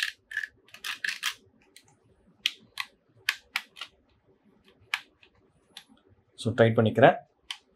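A mobile phone clamp for a PS4, PS5 or Xbox controller gives a series of sharp, close plastic clicks and ratcheting ticks as it locks and tightens, with someone speaking briefly near the end.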